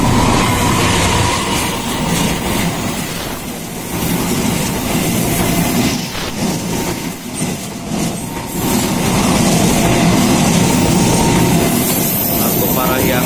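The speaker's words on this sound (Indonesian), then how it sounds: "Bersilang dengan kereta api Argo Parahyangan di stasiun Sukatani." The Argo Parahyangan express rumbles past another train at Sukatani station, heard up close from aboard as a loud, continuous roar of wheels and carriages with rhythmic rail clatter and brief dips in the noise.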